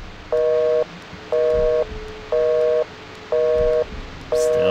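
Repeating telephone busy signal from a phone answered in the horror game The Suffering, set in a prison: five evenly spaced tone bursts about half a second each with short gaps, loud and clear over a faint background hum.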